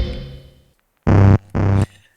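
A lingering reverberant tail from a Korg Kaoss Pad 3 reverb effect fades to silence, then two short, bright synth pad chords sound one after another.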